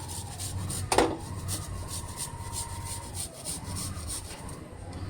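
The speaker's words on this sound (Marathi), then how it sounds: "हा आल्याचा तुकडा मी या किसणीवरून किसून घालणार आहे." A piece of ginger is grated on a hand grater over milk poha, giving close, steady rhythmic scraping strokes with one sharper knock near the start.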